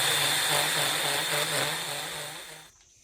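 A carbide burr grinds rubber out of a truck suspension bushing on a 1956 Chevy truck Jaguar IFS rebuild, a loud high-pitched whining grind lasting under three seconds before cutting off abruptly.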